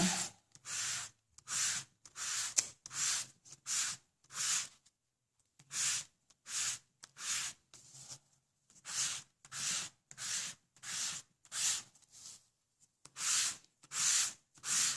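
Glossy white cardstock stamped with a rose image is sanded in about twenty steady back-and-forth strokes, each a soft, close, raspy scrape, with one short pause partway through and no voice.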